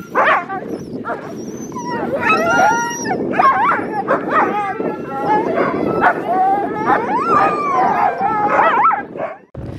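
Sled huskies resting during a break on a Svalbard snow trail, a chorus of close yips, whimpers, howls and barks overlapping throughout at high volume.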